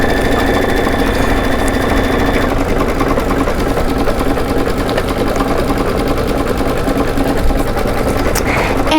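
An embroidery sewing machine stitches a satin stitch, its needle hammering in a rapid, steady mechanical rhythm with a motor hum, close and continuous throughout.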